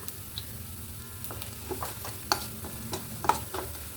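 Coriander powder sizzles in hot oil for a Kerala beef and kappa biryani, a steady close frying hiss broken by occasional scraping clicks as the spice is stirred.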